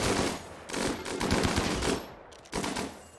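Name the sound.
gunfire from Rimworld video game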